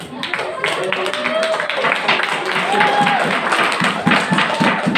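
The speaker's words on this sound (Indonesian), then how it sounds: "Give applause, berikan tepuk tangan." An audience at a candidate's vision-and-mission presentation for an organization's leadership gives a sustained round of applause, a dense patter of many hands. Voices and shouts mix in throughout.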